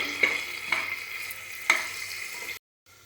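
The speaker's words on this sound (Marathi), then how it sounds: "कांदा एकदम लालसर होईपर्यंत भाजून घ्यायचा मीडियम फ्लेमवरती" Onions frying in a pan on a medium flame for a Maharashtrian pea and potato curry, a steady soft sizzle with a few sharper scrapes of stirring, close and alone before cutting to near silence.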